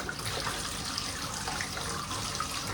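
A kitchen faucet runs steadily, a continuous hissing stream of water at close range with no talking.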